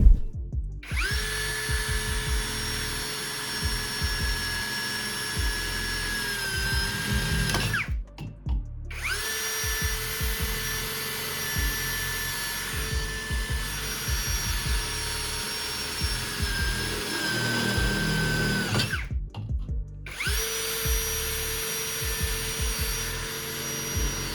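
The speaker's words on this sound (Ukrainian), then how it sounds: "Шуропокрутом було просверлено металевий профіль товщиною 2 мм." A Pro-Craft cordless drill bores through 2 mm thick metal profile with new DeWalt bits, giving three sustained whining runs separated by short pauses, close and steady with no voices.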